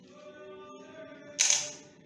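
A Canon EOS 60D DSLR fires its shutter at a slow speed, one sharp mechanical snap and clatter that rings briefly, following a quiet hum.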